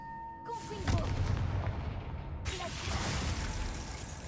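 The Confringo fire spell from Hogwarts Legacy bursts with a loud blast, followed by a second explosive surge a moment later, leaving a dense rumbling roar under a briefly spoken spell name.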